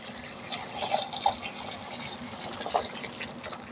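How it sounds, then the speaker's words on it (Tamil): Hot water pours steadily into a bowl with a soft rushing flow, punctuated by a few small splashes and clinks, close by and fairly quiet. "சுடுதண்ணியை ஊற்றிடலாம்."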